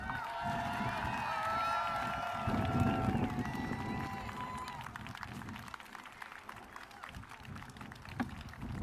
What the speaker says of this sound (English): let's give an even bigger round of applause to these little children